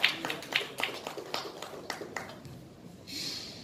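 Scattered clapping from a press audience at a chess grandmaster's media event in India, a run of separate claps that thins out, with no talking over it.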